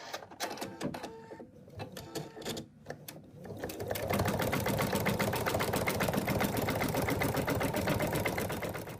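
An embroidery machine stitches fabric for a cat design. It opens with a few irregular clicks and pauses, then settles into a fast, even, mechanical stitching rattle held close and steady.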